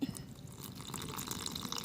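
Water splashes and trickles steadily into a pan, a continuous liquid pour with a brief louder splash at the start.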